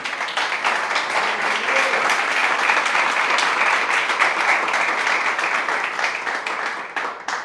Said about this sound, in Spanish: Démosle un aplauso a Dios por eso.